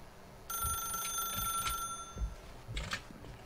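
A telephone rings in The Stanley Parable video game, a steady electronic ring running for about two seconds, then fading into softer background sounds.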